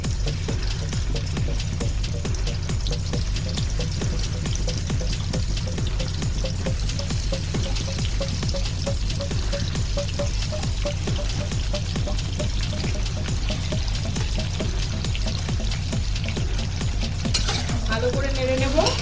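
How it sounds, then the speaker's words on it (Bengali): Okra frying in a little hot vegetable oil for dhaba-style bhindi masala, a steady dense sizzle running throughout with occasional stirring clinks of a utensil, close and continuous with no talking. "আমি অল্প তেল দিয়ে এটাকে ফ্রাই করছি।"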